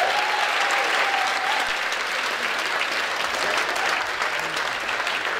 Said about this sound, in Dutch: Geef het een grote applaus.